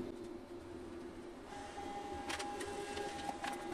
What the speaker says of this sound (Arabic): انا عملت عملية كوبي مباشرة من الورقة الموجودة ضمن السكانر لورقة فارغة